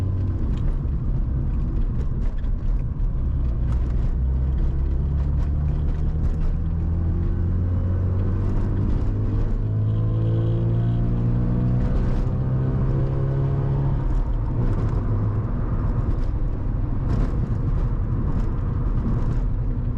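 A Mazda RX-7 FC engine driven hard drones steadily from inside the car, its rotary pitch climbing and falling through gear changes, loud and close over road rumble.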